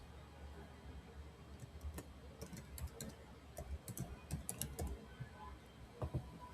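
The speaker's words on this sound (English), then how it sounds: "So type in your email address" Quick bursts of computer keyboard typing as an email address is entered, light uneven clicks close up and fairly quiet, with no talking.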